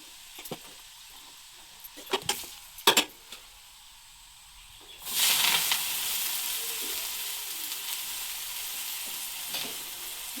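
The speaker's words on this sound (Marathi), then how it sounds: "फक्त लसूण आणि मसाल्याची फोडणी द्यायची तुम्हाला" Faint clinks and light tapping give way to a sudden, loud sizzle of garlic and spices hitting hot oil, which keeps crackling steadily and close by.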